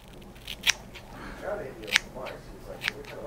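Scissors snip a sea witch tuna lure's hair skirt three times, each cut a sharp, close click spaced about a second apart over a quiet room background.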